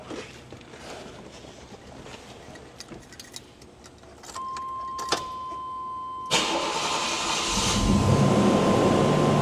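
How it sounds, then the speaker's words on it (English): Cold start of a car in a private supercar collection: starter cranking briefly, then the engine catches at once and settles into a loud, steady idle with a strong low rumble, alone without talk. "Let's hear it crank up. You said it'll crank up in 2 seconds. This is a cold start"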